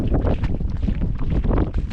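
Strong stormy wind roars across the water at night during burbot fishing, loud gusting buffets hitting the microphone throughout, with no clear voices.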